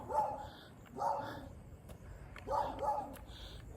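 A dog fenced in behind a car gives several yippy barks in short bursts, fairly distant and faint outdoors, with a few quieter gaps between them.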